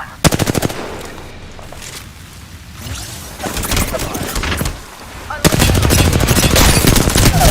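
Loud video game gunfire: bursts of rapid machine-gun fire, a lull, then a sustained, dense fusillade close at hand, with a brief voice in between.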